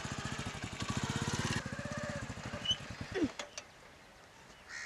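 A motorcycle engine idles and putters with a rapid, even pulsing beat as a learner rides in a village, loudest at first, then easing off and stopping, followed by brief scattered noises.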